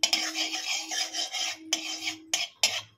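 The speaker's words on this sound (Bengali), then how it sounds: "কড়ার গায়ে চারিদিকে লাগিয়ে নেব ঘিটাকে।" A spoon scrapes and stirs ghee around the inside of a hot karai, a close, steady rasping with a few sharp metallic knocks near the end.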